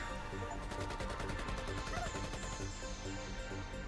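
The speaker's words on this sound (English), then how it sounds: "what anyone on the opposite side of the barrel experiences is a horizontal sweep of fully automatic gunfire" Rapid, continuous fully automatic gunfire in the visual novel game Ghostpia, a dense rattling burst of evenly spaced shots sweeping steadily across the whole moment at fairly low volume.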